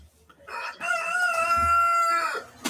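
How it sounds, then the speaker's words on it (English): A rooster crows once, a long sustained call lasting about two seconds, loud and fairly close, with no talking. "There's a freaking rooster outside letting me know his feelings."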